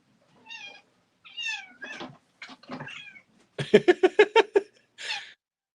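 A house cat meows loudly and insistently nearby, several drawn-out cries followed by a rapid string of short, harsh yowls and one final meow, with no talking over it.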